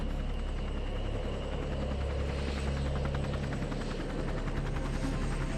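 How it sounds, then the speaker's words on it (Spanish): A Huey helicopter drones steadily with a rapid rhythmic rotor chop, constant and fairly loud throughout. "¡Un helicóptero, papá!"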